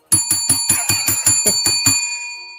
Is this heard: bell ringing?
yes